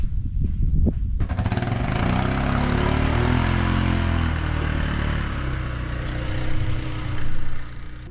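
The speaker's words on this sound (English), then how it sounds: "I need to sand the pavilion" An electric sander works over the wood of a garden pavilion, giving a loud, steady motor drone with a rough grinding texture that runs unbroken for the whole stretch, with no talking.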